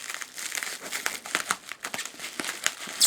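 A large cardboard box holding a portable camping stove is cut open up close, giving a steady run of crisp crinkling, scraping and tearing noises with no talking.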